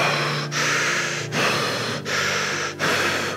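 Deep, fast, rasping breaths come during a meditation exercise, heard close and loud as about four long airy gasps with short gaps between them.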